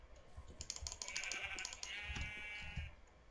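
Sheep bleats from the Minecraft video game, a pair of short wavering calls over rapid computer keyboard typing clicks, fairly quiet overall.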